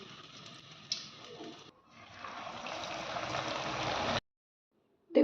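Dal puri, lentil-stuffed puri, sizzles and bubbles in hot frying oil with a steady close crackle that swells midway, then cuts out briefly before returning.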